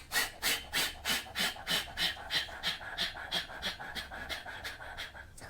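Rapid forceful exhalations of Kapalbhati pranayama breathing, a steady rhythm of about a dozen sharp, breathy puffs per few seconds, close and loud with no talking.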